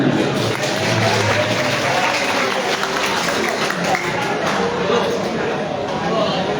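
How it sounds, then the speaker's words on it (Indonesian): Crowd of students applauding at a school assembly, a dense, steady wash of clapping mixed with crowd noise that continues for several seconds. "Tepuk tangan."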